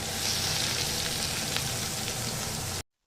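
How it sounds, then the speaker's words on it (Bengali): Onion frying in hot oil in a wok, giving a dense, steady, close sizzle at even loudness that cuts off abruptly at the end, with no talking. "তেলের মধ্যে আমি পেঁয়াজটা দিয়ে দেব আর এটাকে ভালো করে ভেজে নেব"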